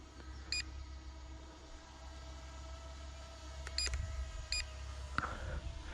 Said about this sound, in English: That extra beep there was me stopping the video, or me starting the video